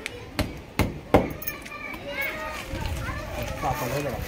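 Hammer blows at a farm hen coop, three sharp loud strikes in quick succession near the start, then fainter knocking while children play and talk in the background.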